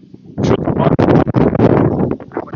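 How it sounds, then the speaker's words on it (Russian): Loud, continuous wind buffeting a microphone on a Yalta beach in Crimea in February, with gusty roaring and rumbling that rises and falls over a few seconds. "Ты смотри, какой ветер здесь"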